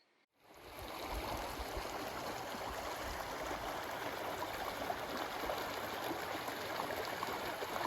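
Steady rushing of Hunter Creek flowing nearby at a trail crossing, a continuous broad watery roar that starts abruptly and holds constant throughout.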